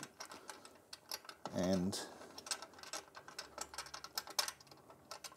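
Ratcheting clicks come from a screw being tightened on the VMA stand for a straight stitch sewing machine, quick mechanical ticks close by and running throughout, with a brief word spoken amid them.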